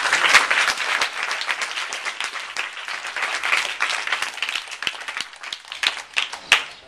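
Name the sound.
audience applause for a prize winner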